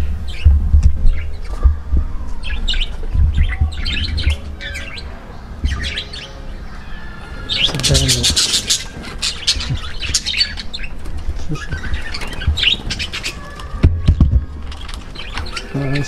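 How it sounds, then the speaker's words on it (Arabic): Birds chirp and tweet in repeated bursts across the whole stretch, some near and bright, some farther off, with a denser flurry midway and low rumbling background noise; no talking. "فقط العصافير وداكشي هما قدامنا"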